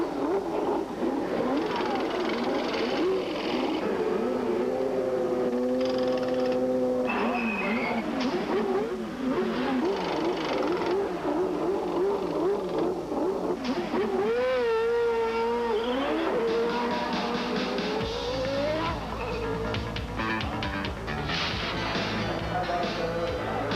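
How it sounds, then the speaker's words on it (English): Race cars circle the Indianapolis Motor Speedway behind the pace car during the 1990 Indianapolis 500, a loud layered engine roar rising and falling as cars pass, with revving sweeps and no clear talk. "Pace car brings the field around for the green flag."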